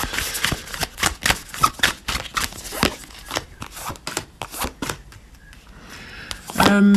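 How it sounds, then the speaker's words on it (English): Tarot cards are shuffled repeatedly up close, a run of quick riffling and slapping bursts in an uneven rhythm, with a brief quieter pause near the end. "let's shuffle these up and then pull 3 piles"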